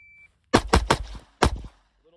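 A SIG 365 X Macro pistol fitted with a compensator fires a quick string of four close, loud shots, then a single fifth shot after a short pause, each a sharp crack with a brief tail, followed by a faint electronic beep.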